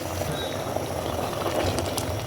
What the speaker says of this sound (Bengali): এখন এটা আমি ডালের মধ্যে ঢেলে দিলাম